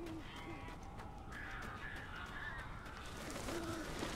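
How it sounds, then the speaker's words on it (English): Birds caw and croak in the Alan Wake video game, with several calls spread across the scene over a steady ambient bed. They are moderately close and stay fairly faint. "These birds are weird."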